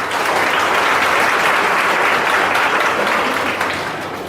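An audience at an institution for blind residents gives a loud, sustained round of applause to welcome visiting guests. The dense clapping holds steady and then eases off slightly near the end.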